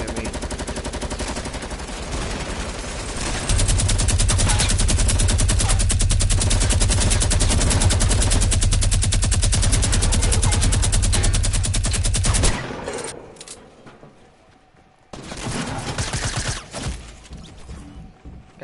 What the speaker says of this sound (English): you're right, because they're shooting at me